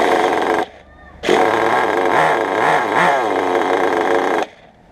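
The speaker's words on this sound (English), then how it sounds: "Now pulling back on the throttle and she's shutting off." A nitro engine idles with a buzzy, harmonic drone, cuts out briefly, then runs loud and steady again with wavering pitch before shutting off abruptly.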